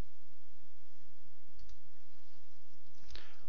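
A computer mouse clicks twice while software is being set up, with two brief, quiet, isolated clicks about 1.5 seconds apart against a faint background hiss.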